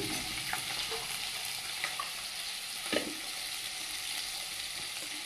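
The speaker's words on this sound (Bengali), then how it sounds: "তেলের মধ্যে দিয়ে দেব খেতো করা রসুন পাঁচফোড়ন" Crushed garlic and panch phoron frying in hot oil in a pan, giving a steady close sizzle throughout with a few soft stirring knocks.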